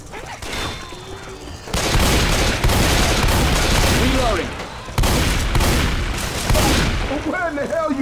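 Dense, sustained gunfire from Left 4 Dead 2 fills the mix, sharp shots crowding together in bursts with brief lulls, while shouted game voices cut in over the shooting.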